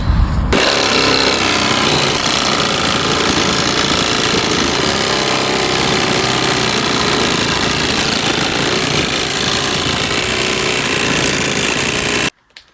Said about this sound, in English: bust out the Sawzall one more time, shorten up the top end of the hanger